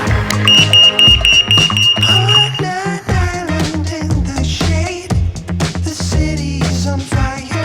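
Loud, insistent electronic beeping in a steady repeating pattern, layered over busy music with a strong beat that keeps going throughout.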